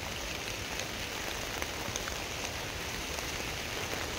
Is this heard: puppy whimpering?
no